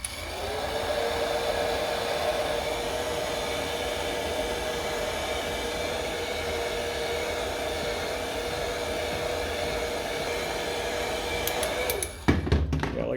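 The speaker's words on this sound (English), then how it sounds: "Now I'm using a heat gun that's meant for shrink wrapping model planes" A heat gun made for shrink wrapping model planes blows hot air over a Game Boy Advance screen cover in a steady, loud, close whoosh with a constant tone that runs nearly unbroken, then cuts out with a few clicks near the end.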